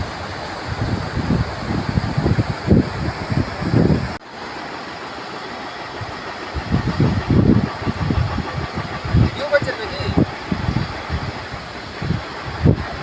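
A car engine runs as a convoy of four cars departs from Dharchula toward Gunji, a steady rumbling drone with wind buffeting the microphone and a brief break partway through.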